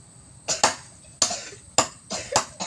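A series of short, raspy coughs from a rooster, coming in quick pairs with brief pauses between, close and fairly sharp.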